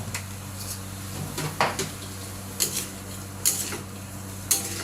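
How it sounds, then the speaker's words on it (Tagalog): Shrimp fry in a pan, a steady sizzle running underneath while a utensil scrapes and clanks against the metal in a few separate stirring strokes, close and moderately loud. "Stir nyo lang yan kasi maluluto yan."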